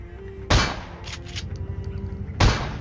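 Two sharp, loud shotgun blasts ring out in a video game about two seconds apart, with faint clicks and game sounds between them.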